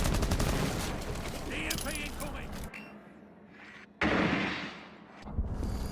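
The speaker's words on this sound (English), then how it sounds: "So a lot of gunfire exchange here" Rapid gunfire trades back and forth in a Rainbow Six Siege college match, loud and dense bursts filling the first half, dropping briefly before another sharp volley, with faint voices underneath.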